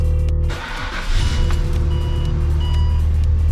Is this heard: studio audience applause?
no